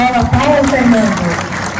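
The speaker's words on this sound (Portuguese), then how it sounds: "Uma salva de palmas para a escola Paulo Fernando." Crowd applause at a 7 de Setembro school parade of rural schools and crèches in Macaparana, steady and fairly loud, running under an announcer's voice and a tonal background for the whole stretch.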